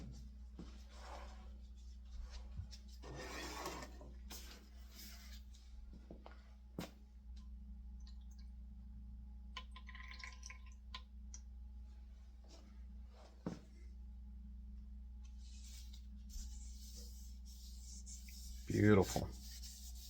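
Walnut teak oil is rubbed by hand into a carved cherry and walnut cane, giving soft, close scuffing and wiping strokes at a low level, with a brief louder knock near the end.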